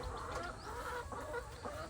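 Free-range chickens on a small farm poultry setup cluck steadily at close range, with overlapping hen calls and faint background movement throughout the short stretch.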